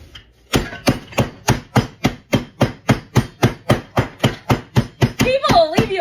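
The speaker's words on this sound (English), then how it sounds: "Remember, if you're using gluten-free pretzels like I am, you need to smash the smithereens out of them." Gluten-free pretzels for a raspberry pretzel jello salad are smashed in a kitchen with about twenty sharp, steady, evenly spaced thuds close to the microphone, and a voice joins briefly at the end.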